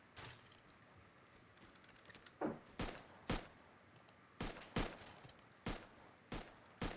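Gunfire in the survival video game Rust: a string of sharp, separate shots, about eight over several seconds with irregular gaps, the first few faint and the later ones loud and close, without talk.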